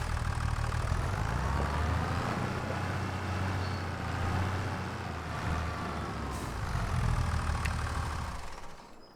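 A tractor engine idles steadily in Farming Simulator 25, a low continuous rumble with faint mechanical whine and small swells in intensity, plus a couple of brief higher clicks; no talking.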